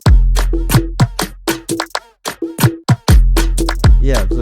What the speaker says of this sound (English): Then there's this percussion that just plays all through.